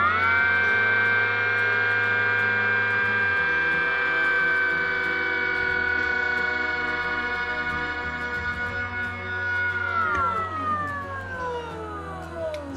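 An off-grid sailboat's electric motor runs near full speed with a steady high whine over a low hum, holding constant before winding down sharply near the end.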